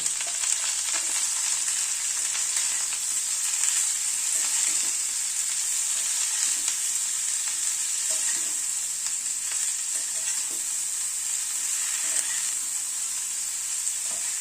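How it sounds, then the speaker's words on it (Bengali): Cauliflower fries in a pan with salt and turmeric, giving a constant bright, hissing sizzle that holds steady throughout with faint stirring taps, no speech. "নুন হলুদ দিয়ে ফুলকপিটাকে একটু ভেজে নেব।"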